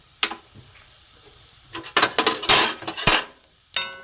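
Dry red chilli, bay leaf, whole cumin and whole garam masala go into hot mustard oil in a wok, heard as scattered clinks of a metal utensil and short bursts of crackling sizzle close by.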